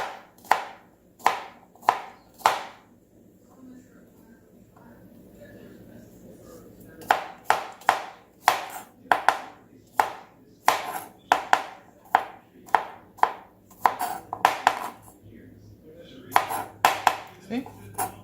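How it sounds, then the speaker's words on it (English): A knife chops zucchini into small pieces on a cutting board in close, sharp, rhythmic strokes, first in a short burst, then after a pause in a faster run of evenly spaced chops. "Chop these up in little small pieces"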